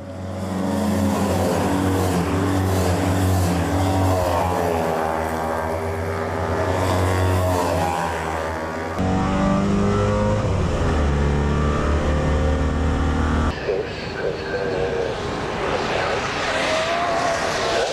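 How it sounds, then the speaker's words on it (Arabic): Small Citroën 2CV cars racing on a circuit, buzzing engines rising and falling in pitch as they rev and pass, loud and close, with abrupt shifts between passes and no speech. "هنشوف معاكم فيديو جديد المرة دي عن سباق سيارات 2CV"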